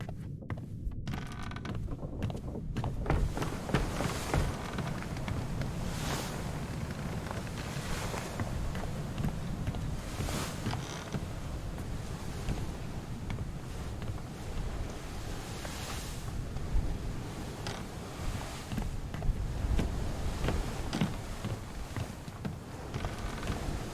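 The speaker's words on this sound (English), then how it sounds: "The wood creaking, the sails flapping in the wind" Ambient sailing-ship sounds from Return of the Obra Dinn: a steady wash of wind and sea with sails flapping and wooden hull creaks, an unbroken, moderately loud atmosphere with no talk.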